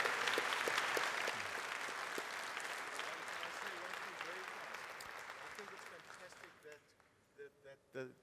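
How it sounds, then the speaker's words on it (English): A conference audience gives loud, sustained applause for a panel of speakers, the dense clapping gradually thinning out toward the end, leaving a few scattered claps and faint voices. "I think a round of applause for our panelists"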